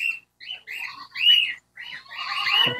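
Several seed-eating birds in an aviary chirp and squawk in quick overlapping bursts, shrill and fairly close, with short pauses between calls.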